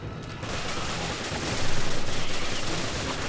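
Sustained rapid gunfire from a Resident Evil 5 battle against a bat-like monster, a dense loud barrage that swells and pulses in quick repeated bursts with no pause.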